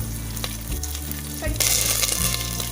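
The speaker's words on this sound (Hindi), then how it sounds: "अब इसको हम हल्का सा सौते कर लेंगे।" Green chillies sauté with steady loud sizzling and frying in a hot pan, crackling intensifying midway as the oil spits, with occasional stirring scrapes and no talk.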